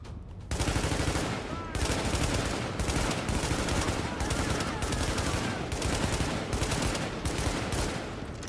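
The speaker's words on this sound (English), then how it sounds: "Shoot the shit out of him." Sustained heavy gunfire against the final boss at General Assembly in The Division, a loud, close, nearly continuous automatic barrage with brief gaps between bursts.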